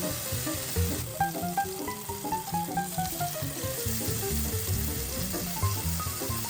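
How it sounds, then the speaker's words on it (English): Batter-dipped bread sizzles and fries in a preheated pan for vegan French toast, a steady close crackle with occasional pops and faint stirring or scraping. "after the bread goes into the batter, it goes into your already preheated pan"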